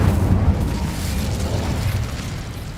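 A fiery blast from the Incendio spell in Hogwarts Legacy booms and roars, loud and close, then tails off into a rumbling crackle over a few seconds.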